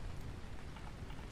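Rain pours down in the video game Vintage Story as an even, close hiss of dense droplets, with a low rumble underneath and no voices.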